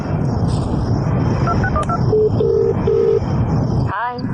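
A phone keypad beeps through a quick run of dialing tones, a few short steady tones following, over a constant background hum; a brief voice comes at the end.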